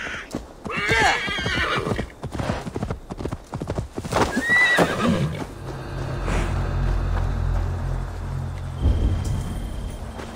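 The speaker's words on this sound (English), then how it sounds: "Come on, horse." A horse in Assassin's Creed Valhalla whinnies loudly and close, then its hooves clip-clop in a steady rhythm while a low rumble fills the rest of the scene.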